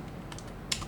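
A few quiet clicks of keys being typed on a computer keyboard, sparse and close, ending in one sharper keystroke.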